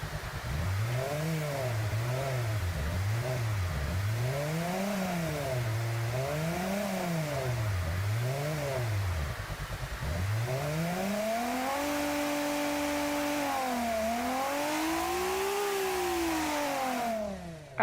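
A simulated car engine in the Automation building game revs repeatedly in quick rising-and-falling sweeps, then climbs in a longer, smoother pull before easing off, loud and alone throughout.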